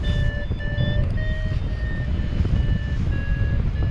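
A paragliding variometer beeps steadily in short evenly spaced tones, stepping slightly in pitch, over constant rushing wind noise during flight.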